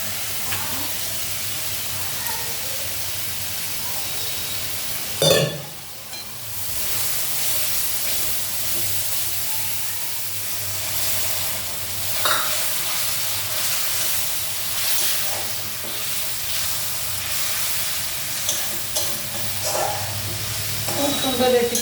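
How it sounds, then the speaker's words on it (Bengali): Masala spice paste sizzles in a frying pan as a steady broad hiss, with a couple of sharper clatters and a voice talking over it. "মশলাটা কিন্তু ভালো করে কষাতে হবে"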